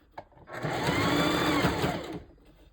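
A sewing machine stitches a hair track onto a mesh dome wig cap, a steady whirring run of about a second and a half after a brief click, loud and close with no talk.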